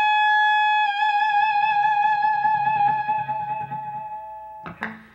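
An electric blues lead guitar note bent up and held with a wavering vibrato, sustained and loud, ending in a brief pick attack near the end.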